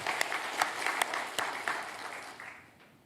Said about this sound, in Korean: 다시 한번 우리 하나님 앞에 크게 박수로 영광을 돌리겠습니다.